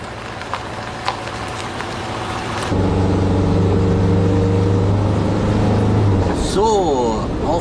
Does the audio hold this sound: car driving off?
yes